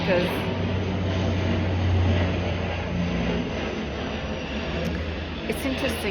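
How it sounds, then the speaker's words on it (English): Airplane passing overhead, a continuous broad jet roar that swells slightly and then eases, filling the whole stretch with no talk over it. "I'm gonna let the plane pass."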